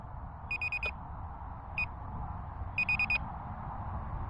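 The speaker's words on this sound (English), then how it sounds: "Oh, it beeps." A Skymark Pursuit GPS drone emits short electronic beeps in quick clusters of four, a single beep, then another cluster of four, faint against a steady low background hum.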